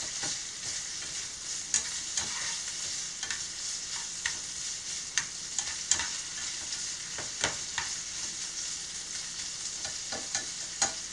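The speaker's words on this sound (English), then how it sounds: "Can you smell that bacon? I smell the bacon." Bacon fries in a pan for a tomato, onion, pepper, bacon and cheese omelet, giving a steady close sizzle scattered with sharp pops and crackles, with no talking.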